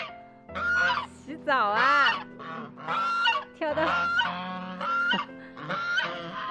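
Ducks give loud, repeated nasal honks at close range while being put into water to bathe in a courtyard in Xinjiang, with a person speaking briefly between the calls.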